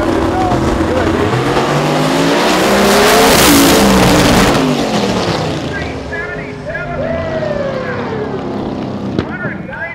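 Marty Stenn's small-block-powered Mustang race car makes a qualifying run at about 197 mph, its engine roaring loud and close, swelling to a peak with a sweeping pitch, then trailing off into a higher, thinner whine.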